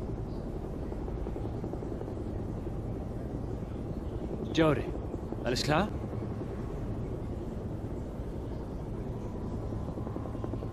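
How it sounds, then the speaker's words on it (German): A helicopter in the video game Beyond: Two Souls drones as a steady, loud rotor rumble through the whole stretch, with a man and someone briefly talking over it midway. "Der Boss schickt seinen privaten Helikopter, um einen Agenten abzuholen."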